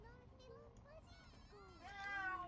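A pet cat in The Sims 3 meows several times in a row, drawn-out nasal cries close by, quiet at first and rising louder near the end, mixed with soft childlike game voices.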